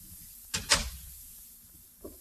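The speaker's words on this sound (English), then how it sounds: "Close the door." A door shuts in an old radio suspense drama sound effect, a single close thud with a sharp latch click, then a faint knock near the end over quiet background.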